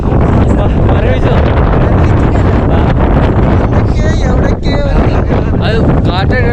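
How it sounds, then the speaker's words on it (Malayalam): Strong, cold wind gusting across a mountain crossing in Kashmir, a loud continuous roar buffeting the microphone throughout, with faint voices underneath. "കാരണം ഹെവി കാറ്റ്, നല്ല തണുത്ത കാറ്റ് കേട്ടോ."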